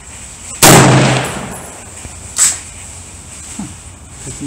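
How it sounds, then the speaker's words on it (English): A single loud shot from a Browning BAR .308 rifle with a Leupold scope, sharp and close with a short decaying tail, then a fainter pop or echo about two seconds later. "Alright, here goes the second shot."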